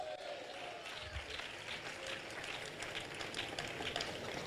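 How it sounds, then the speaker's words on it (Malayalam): A church congregation applauds in praise, a dense, steady wash of many hands clapping that holds at an even level throughout. "വിശ്വാസമുള്ളവർ കൈയടിച്ച് ദൈവത്തിന് സ്തോത്രം ചെയ്യാം"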